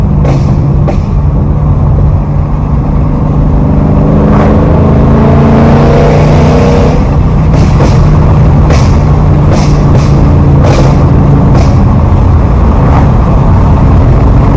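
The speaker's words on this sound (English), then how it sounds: "I got a Corsa X pipe and a muffler delete." A Ford Mustang GT with a Corsa X-pipe, muffler delete and burble tune rumbles loudly up close in a wooded setting, its deep exhaust rising in revs and followed by a series of sharp crackling pops.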